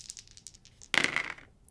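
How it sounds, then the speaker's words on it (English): Pair of dice rolled in a tabletop board game showdown, a short burst of clattering rattle on the table lasting about half a second after a quiet stretch, fairly close and alone. "they both roll a pair of dice each"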